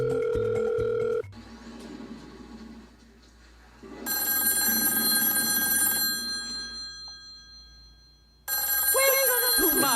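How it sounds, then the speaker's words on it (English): A game room telephone rings in loud, steady bursts, the first at the start and two more separated by quieter gaps, all in an indoor setting. "Game room phone is ringing."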